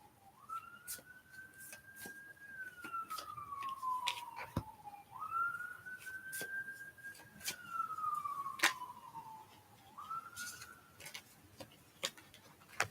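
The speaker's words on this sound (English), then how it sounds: "Have an ambulance going on in the back." An ambulance siren wails in the background, its rising and falling tone repeating in slow sweeps at moderate distance, with sharp ticking clicks scattered over it.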